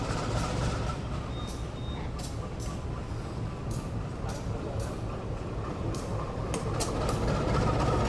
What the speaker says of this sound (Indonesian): sini BP 203 langsir kembali ke arah barat